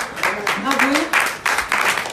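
Audience applauding contest participants at a weather and climate forum, clapping in uneven bursts while someone talks over it, the voice sliding through the middle.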